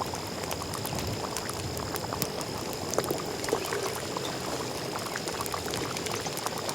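Homemade nannari syrup for sarbath boiling in a pan, thick bubbling and popping close up, steady and continuous with small clinks, no talking.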